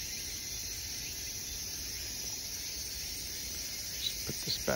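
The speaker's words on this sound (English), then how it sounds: "Very pretty cicada." A cicada drones in the trees nearby with a constant high, buzzing whine that holds steady throughout, while a few faint knocks and rustles come near the end.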